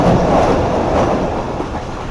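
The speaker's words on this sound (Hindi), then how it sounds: "तो ये पन्नागल से निकल रही है ट्रेन" Khyber Mail passenger train pulling out of Pannagal, a loud, steady rumble of wheels on rails filling the whole stretch with faint rhythmic clatter and no voices.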